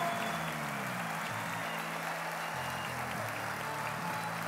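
Audience at an award ceremony applauding to welcome an honoree to the stage, a continuous wash of clapping mixed with background music tones, steady and moderately loud throughout.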